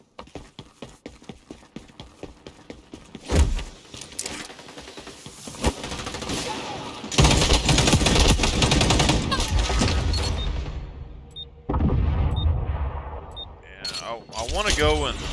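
Gunfire in the shooter game XDefiant, beginning with a string of sharp, evenly spaced shots and then giving way to long dense bursts of rapid fire and other game noise, with someone talking over parts of it.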